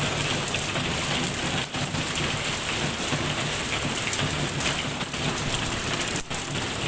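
Heavy rain pours down in a steady, dense roar, loud and close, with no voices and only a few brief dips in the downpour.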